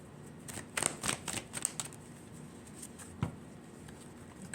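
Tarot cards are shuffled in quick riffling bursts, soft and close, then settle into quieter patter with a single tap near the end.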